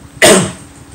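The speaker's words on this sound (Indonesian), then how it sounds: "jadi batuk saya tidak berbahaya bagi Anda" A man gives a single sharp cough, close and loud, with a quick breathy decay and no other sound around it.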